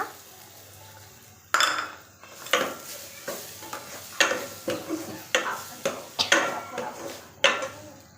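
Capsicum is stirred in a hot pan with ginger-garlic paste, a spoon scraping and tapping the pan in a steady run of strokes over a soft sizzle, close by, after a quieter opening stretch.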